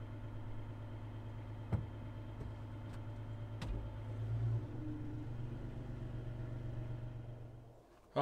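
A car idles steadily while it is shifted into reverse, giving a low, close engine hum with a few small clicks and one sharper knock near the end, and no voices.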